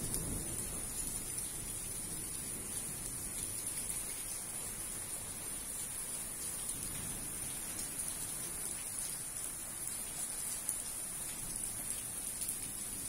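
Rain and hail on a stormy night, a dense steady patter of drops striking surfaces throughout, fairly soft and even with no voices, plus a faint high electronic whine running underneath.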